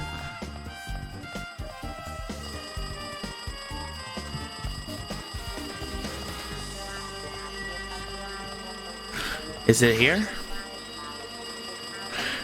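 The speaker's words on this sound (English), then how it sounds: "Looks like that phone is ringing." A telephone rings in the Danganronpa 2 video game, a brief bright electronic trill near the end over a steady game background, while a person talks.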